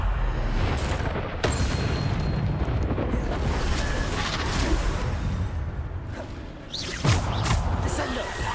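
A Bombarda explosion spell in Hogwarts Legacy sounds as a heavy, sustained rumbling blast. Sharper booming bursts break through early and again near the end, and a voice can faintly be heard under the din.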